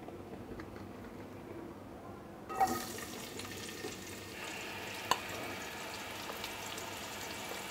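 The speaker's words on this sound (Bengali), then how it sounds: "আমার তেলটা গরম হয়ে গেছে, এখন আমি এর মধ্যে কুচানো পেঁয়াজটা দিয়ে দেব।" Chopped onion tipped into hot oil left from fried catla fish, first near quiet, then a sudden splash into a steady low sizzle with a small clatter a few seconds later, no talk.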